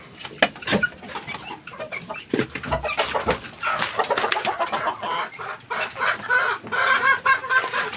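Chickens and young chicks on a farm keep up a busy run of clucks and peeps, close and fairly loud, with overlapping calls and no talk.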